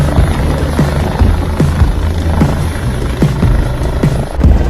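A helicopter hovers close by near a snowy mountain, its rotor thumping in a fast, loud, steady rhythm with a constant engine whine, no voices.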